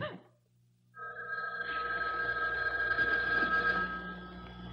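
A house telephone rings after a brief quiet pause, its bell trilling loudly and continuously for several seconds in a still room.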